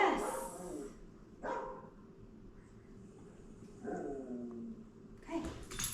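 Dogs bark from a television in a home, several short separated barks and yips at moderate distance, fairly quiet, with gaps between them.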